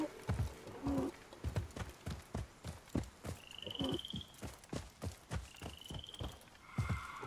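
A horse's hooves clop along at a steady walking rhythm in the Assassin's Creed Mirage video game, with a snort or whinny and faint ambient tones in the background, moderately quiet and with no talking.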